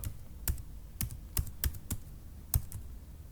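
Typing code on a computer keyboard during a C programming lesson, with a handful of sharp, irregular keystrokes, close and fairly loud, over a quiet background hum and no talking.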